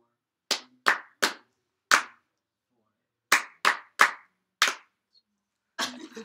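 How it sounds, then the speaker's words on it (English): Fifth-grade music class students clap out a rhythm: sharp, close single claps in short patterned groups separated by pauses, ending in a brief burst of mixed noise. "you're going to clap it for the class"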